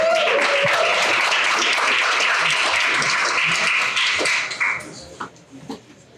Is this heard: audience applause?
yes